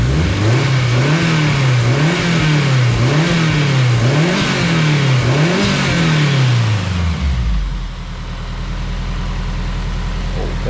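A turbocharged car engine revs hard in repeated rising and falling pulls, loud and close, then drops to a rough, steady idle for the final few seconds.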